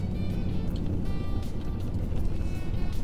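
A supercharged V8 in a Jaguar S-Type R runs at low revs while driving, giving a steady, loud engine drone with a thin high whine running above it and no talking.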